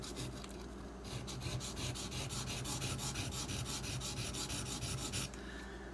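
A ZT 0620 tanto knife drawn across a sharpening stone in quick, steady rasping strokes, close and even, a rapid rhythmic grinding that runs for several seconds with no voice.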